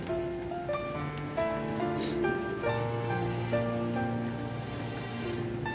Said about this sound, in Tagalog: Malakas pa rin kasi ang ulan dito guys.